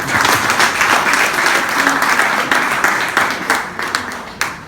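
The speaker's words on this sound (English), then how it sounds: "Imagine you are clapping for the Almighty God." A church congregation claps for God, dense, loud applause filling the room with scattered sharper claps, thinning slightly toward the end.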